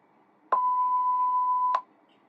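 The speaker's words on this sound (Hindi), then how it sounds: "इस टाइप से अलार्म बजेगी" A single steady electronic beep from a Pomodoro study timer alarm holds one pitch for a bit over a second, loud and clean against a quiet background, then stops.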